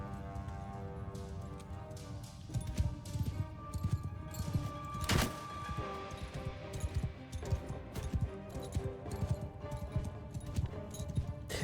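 Horse hooves clip-clop in steady, busy rhythm in the samurai video game Shokuho, fairly close, with occasional clinks and a sharp crash partway through, no talk.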